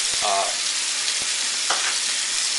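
Fermented black beans and garlic fry in a pan with a steady, bright sizzle that runs throughout, broken by a few soft clicks and stirring scrapes.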